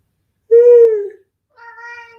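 A house cat meows twice nearby, first a loud, long, falling meow, then a softer shorter one after a pause, in an otherwise quiet room.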